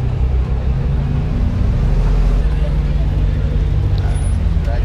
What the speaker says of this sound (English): We're riding the Jeep Rubicon,